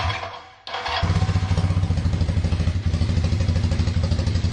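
Kawasaki KZ440 motorcycle with a single carburetor, its engine catching after a brief lull and then idling close by with an uneven, lumpy chug while running on only one cylinder.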